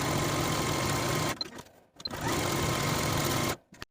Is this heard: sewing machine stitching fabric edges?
yes